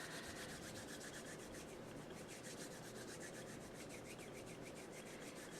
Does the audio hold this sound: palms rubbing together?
yes